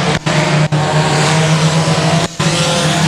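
Loud, close engine roar from a dirt track race car at Boothill Speedway, held steady through the turns with a few brief dropouts.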